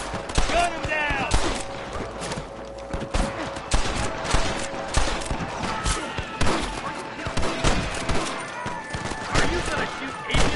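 Rapid overlapping gunshots and fusillade bursts from a western video game shootout fill the scene, loud and continuous, with shouting voices mixed in.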